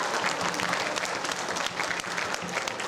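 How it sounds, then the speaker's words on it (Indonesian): Sustained applause from a crowd at a Batak community event in California, dense steady clapping throughout with no pauses. "Tepuk tangan maju kita"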